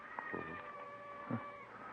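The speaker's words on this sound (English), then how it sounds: "There's a cat." A cat meows twice in a Dragnet radio drama, short faint calls about a second apart over a quiet room background.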